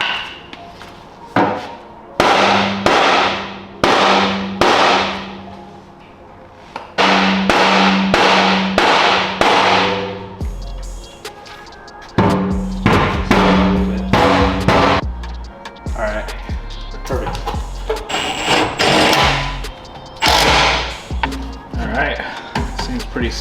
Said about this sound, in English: we'll go ahead and grab a hammer and just bang that back in real quick